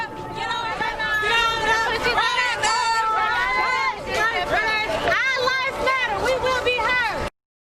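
A large crowd of George Floyd demonstrators marches and dances downtown in Mobile, a loud continuous swell of chanting and excited voices close by, with shouts rising above the general babble.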